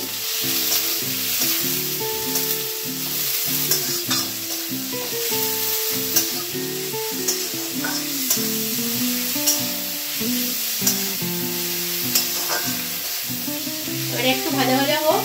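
Potatoes salted and stirred in a pan fry with a steady, close sizzle that runs the whole way under continuous background music.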